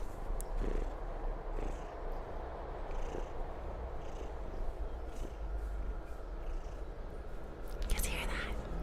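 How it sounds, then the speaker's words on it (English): A pet cat purrs held close to the microphone, a soft continuous low rumble running throughout, while a person talks quietly over it. "She's purring right now."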